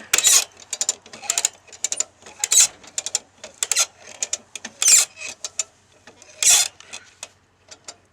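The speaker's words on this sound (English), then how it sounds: "use my little dolly cart and winch it up onto the trailer" A winch ratchets and clicks in uneven bursts while hauling a mud-stuck 1966 Ford F100 pickup onto a trailer with a dolly cart, the mechanical clatter close and fairly loud with short pauses.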